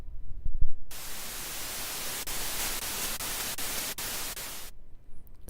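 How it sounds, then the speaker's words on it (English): A steady white noise tone from a synthesizer noise wave switches on abruptly, holds for several seconds with faint clicks, then cuts off. "which is going to be a noise wave, which is like a white noise."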